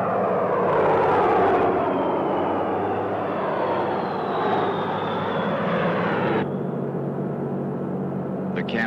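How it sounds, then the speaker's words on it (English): Vintage B-17 bomber engines drone steadily and loudly as the aircraft flies, a continuous roar with a slowly shifting tone that drops off toward the end. "A fleet of vintage B-17 bombers was converted to drop insecticide."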